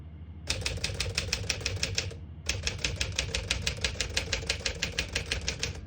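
Rapid, evenly spaced key strikes on a 1957 Smith-Corona Silent-Super portable typewriter, two close, crisp runs of clacking separated by a brief pause, with no voice present.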